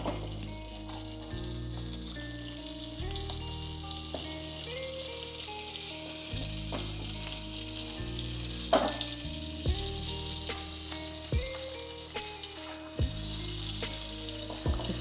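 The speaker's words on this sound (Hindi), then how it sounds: "बटर और पीनट बटर को अच्छे से मेल्ट कर लेंगे।" Butter and peanut butter melting in a pan over a low flame give a steady soft sizzle with occasional stirring clicks, under a continuous background music bed.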